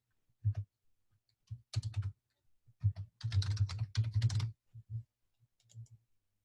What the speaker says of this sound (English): hopefully I can type